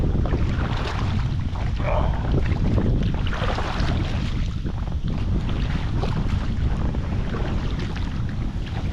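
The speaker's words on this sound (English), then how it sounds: "Oh, this is gonna be fun with the wind" Strong wind roars steadily across an open microphone outdoors near water, a constant loud rushing buffet with low rumble and no pauses, heard alone.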